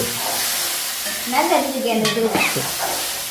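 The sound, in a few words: ingredients sautéing in a pan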